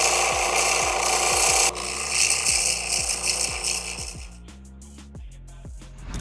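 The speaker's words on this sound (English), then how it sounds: "My favorite method is just to use my belt sander." Belt sander grinding down the hardened steel pins of an electric pit bike chain, a loud continuous abrasive rasp with a steady, repeating mechanical ticking running through it, dropping in intensity partway through and becoming rougher and more intermittent toward the end.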